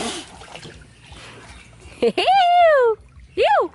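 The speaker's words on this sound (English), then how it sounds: "So I'm just going to have to sit in the river." Someone splashes while sitting down in a river, with a couple of seconds of close, messy water sloshing followed by loud wordless vocal cries.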